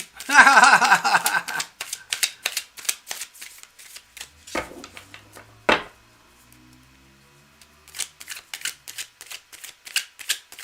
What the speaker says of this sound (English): Just going to keep shuffling.